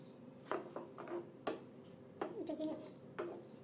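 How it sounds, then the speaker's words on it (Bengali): A spoon stirs khude bhat (broken rice) in a pot, making soft scraping clatters and taps in several separate bursts, close and quiet, against a low steady background hum. "আধা ঘন্টা পর এখন আমি খুদে ভাতটাকে নেড়ে চেড়ে দেবো।"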